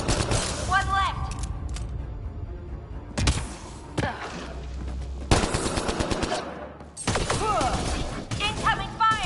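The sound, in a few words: incoming gunfire in a video game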